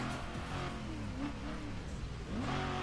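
The Montgomery Hyperion car in Burnout Paradise revs its engine, a continuous whirring drone that rises and falls in pitch with short swells, heard on its own.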